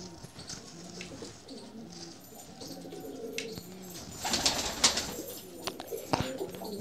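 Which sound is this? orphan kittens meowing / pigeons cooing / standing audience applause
pigeons cooing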